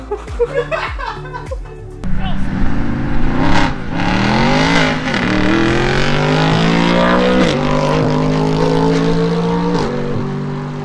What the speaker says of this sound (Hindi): That is a V8, not American. AMG.